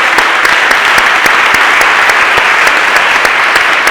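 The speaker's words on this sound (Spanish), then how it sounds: "Pues un fuerte aplauso." Loud, sustained applause from an audience at the close of a public dialogue, dense steady clapping with sharper individual claps standing out throughout.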